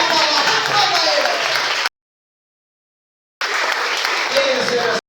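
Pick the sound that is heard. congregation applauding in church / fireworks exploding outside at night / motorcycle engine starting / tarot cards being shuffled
congregation applauding in church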